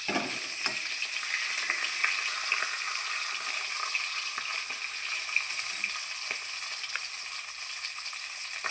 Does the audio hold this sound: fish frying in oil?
yes